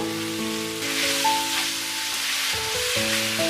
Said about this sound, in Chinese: 爆香后倒入萝卜，翻炒2分钟